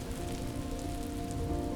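Steady rain falling across the open Serengeti plains at the start of the wet season, a dense continuous patter on the ground with a constant, even loudness and no voices.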